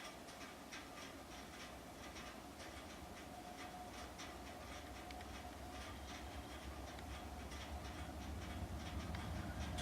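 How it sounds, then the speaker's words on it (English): Train passing along tracks beside a road, a continuous rumbling clatter of wheels with rhythmic clicks, heard from a distance and growing slightly louder toward the end. "we happened to be driving along some train tracks, and then this thing started coming down the road"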